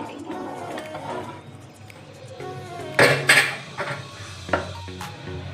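Pakoras are stirred into kadhi in a cooking pot: a steady low simmering bed under scraping and clinking strokes, with a few sharper metallic knocks of the spoon against the pot near the end.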